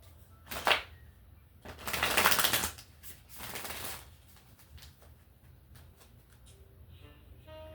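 Tarot cards are shuffled in quick riffling bursts, several short rustling clusters, close and quiet, with small taps and clicks between them and no talk.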